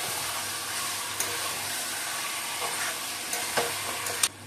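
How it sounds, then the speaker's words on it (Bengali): Mutton sizzles and fries in a pot, a steady close hiss of frying with faint crackles and a few small clinks of stirring utensils, with no speech. "আমি এবার ঢাকা দিয়ে রান্না করছি।"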